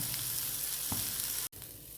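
Sardines (mathi), an oily fish, sizzle and crackle steadily while frying in a pan. The sound is close and continuous, with a brief sharp break near the end.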